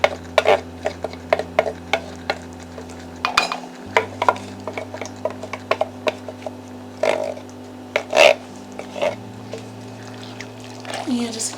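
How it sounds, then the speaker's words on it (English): Lentil chili with crushed tomatoes being stirred in a pot, a spoon scraping and knocking against the metal in irregular near strokes over a steady low kitchen hum, with talking at times. "And just give it a stir."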